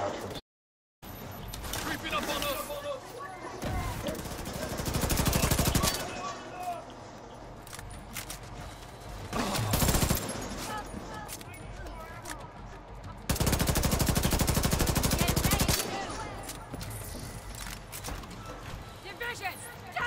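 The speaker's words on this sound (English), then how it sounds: "they're right here shooting me" Video game gunfire crackles in several long rapid bursts, loud and close, alternating with quieter stretches while a person talks over it.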